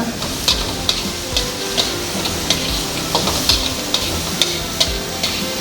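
Pieces of tempeh are stir-fried in a pan, a continuous close sizzle punctuated by regular scraping and tapping strokes of a spatula roughly every half second.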